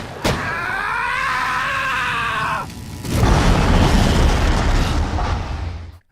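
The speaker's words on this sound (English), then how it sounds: "Aunt May returns, gun in hand, and guns down Electro" Aunt May guns down Electro in a Spider-Man video game, a loud, close burst of booming gunfire and crackling electrical roar following a wavering groan, with no talk.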